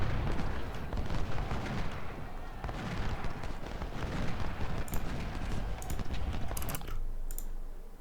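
Continuous rumbling artillery and crackling gunfire from a Civil War battle in the strategy game Ultimate General Civil War, dense and steady throughout with sharp bursts near the end.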